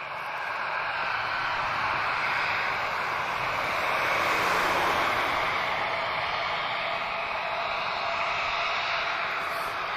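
A Turkish Airlines airliner taxiing at Lisbon Airport, its engines giving a steady, broad jet roar that swells slightly midway and holds for the full stretch, with no voices.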